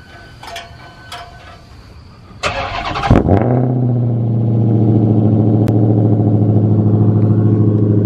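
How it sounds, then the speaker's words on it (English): A Dodge Hellcat Challenger's supercharged engine cold-starts by remote start: quiet mechanical clicks, a brief starter whir, then a loud bark that settles into a steady, rumbling high idle close by, with no one talking. "Let's do a cold start."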